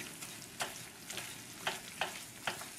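Brown roux of flour and fat cooking in a pan for Cajun or Creole dishes, a steady sizzle and crackle broken by several sharp scraping stirs spaced through the stretch, close and fairly loud with no talk.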